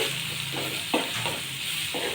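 Chili and turmeric sizzle in hot tempering oil for an Indian green bean and potato curry, a steady close fry with a few soft scraping stirs of a spoon.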